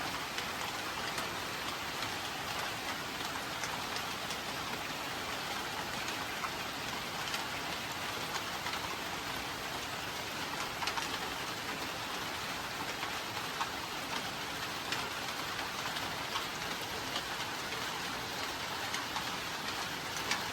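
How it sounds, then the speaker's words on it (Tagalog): Steady rain pours down continuously on a farm, a dense even hiss of drops on surfaces with no letup and no voices. "ngayon po palagi nang umuulan"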